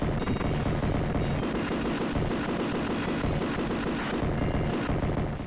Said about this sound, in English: Your basic weapon, an automatic rifle, sounds great.